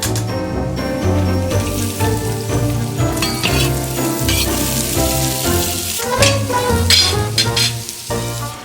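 Onions, about 600 grams, frying in oil in a kazan, a steady crackling sizzle heard close up with occasional stirring clatter, no talking.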